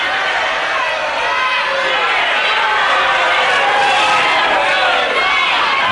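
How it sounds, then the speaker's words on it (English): A packed wrestling crowd roaring and shouting for Steve Veidor, a loud, dense wall of cheering and chatter that holds steady without pause. "And there's the crowd all for Veidor."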